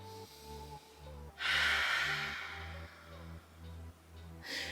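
One strong forceful exhale during a Pilates exercise, breathy and close, then a second breath begins at the end, over a steady rhythmic music beat.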